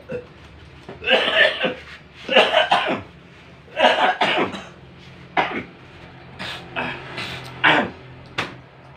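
A man coughs repeatedly in harsh, rough bursts with short pauses between them, close by in an indoor religious study session, followed by softer throat clearing and a few scattered small coughs.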